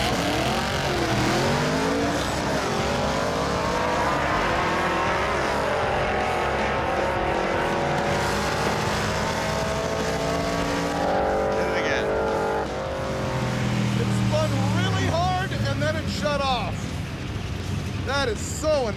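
A drag race car launches down the strip, its engine revving hard and climbing through the gears with loud, continuous roar and some tire noise, while people talk over it throughout.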